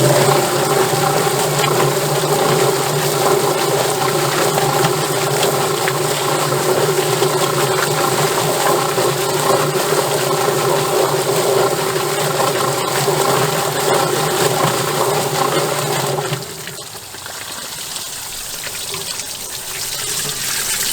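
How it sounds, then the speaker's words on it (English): Chicken plucker machine working on a scalded Cornish Cross chicken with water running, a loud steady mechanical whir and rattle with splashing water throughout, dropping abruptly to a quieter hum near the end. "Alright, now it's going to go into the plucker."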